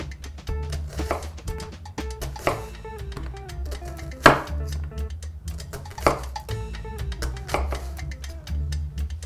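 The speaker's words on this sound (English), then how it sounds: "we're going to be slicing straight down directly through to the cutting board" Knife slicing straight down through an onion onto a cutting board, a series of crisp, irregular thuds and taps close by, with occasional louder knocks against the board and some talking between cuts.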